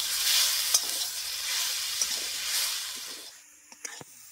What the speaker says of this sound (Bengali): গুড় আর নারকেলটাকে খুব ভালো মতো মিশিয়ে নেব।